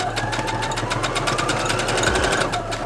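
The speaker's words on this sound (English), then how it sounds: "So you would press to start sewing. It's sewing automatically by itself." A sewing machine stitching swimwear fabric hums with a rapid, even mechanical chatter close by, running steadily and slightly picking up pace, with no talking over it.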